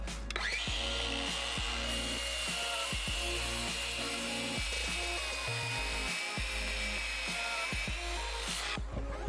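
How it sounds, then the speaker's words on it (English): A 20-volt cordless miter saw cutting wood for an outdoor deck workbench gives off a steady high motor whine, broken by repeated short dips as the blade works through the wood, before stopping abruptly. "it's just a 20-volt cordless miter saw"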